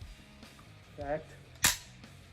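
An AK-47 trigger is pulled and the firing pin snaps forward, giving a single sharp metallic click near the end, preceded by a softer mechanical sound, close and isolated against a quiet background.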